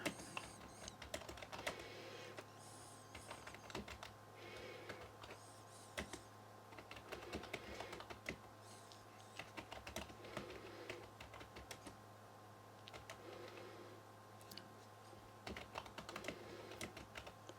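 Steady light key clicks from typing on a Konnet TouchEz keyboard case for an iPad 2 with its plastic membrane cover on, a quiet, close, continuous patter with brief pauses and no talk.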